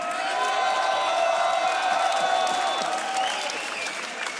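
Audience applauding beatboxers MB14 and Slizzer at a Grand Beatbox Loopstation Battle quarterfinal, a loud sustained wash of clapping with cheers and whoops throughout, slowly easing toward the end.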